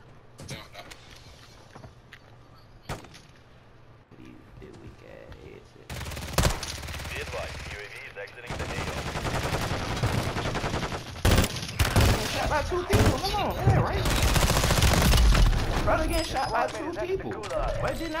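Call of Duty gunfire: scattered single shots, then heavy automatic bursts that grow louder and denser toward the end, with players talking over the fighting.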